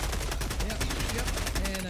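Rapid automatic gunfire in the video game Helldivers 2 rattles in a fast, even burst of shots lasting the whole moment, fairly quiet in the mix, with no speech over it.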